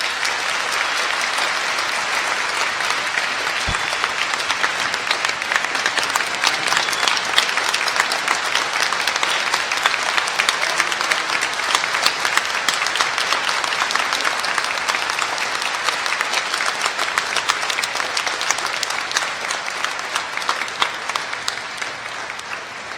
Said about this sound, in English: How about a round of applause for Sergeant Boylan?